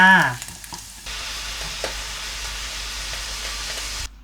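Continuous sizzling of Chinese sausage stir-frying in a pan, close up, with a brief clatter at the start and no talking.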